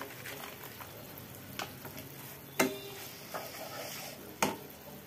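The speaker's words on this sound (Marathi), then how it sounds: "आता यामध्ये आपण जे ड्रायफ्रुट्स आहेत ते टाकूया।" Dry fruits drop into jaggery melting in a pan, with a steady soft sizzle and stirring throughout and two sharp clinks of a spoon against the pan.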